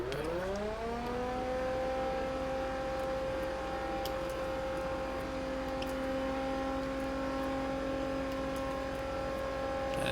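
A car engine in The Crew, played with a wheel and pedals, rises in pitch as it accelerates, then holds a steady, sustained whine at high revs with no talk over it.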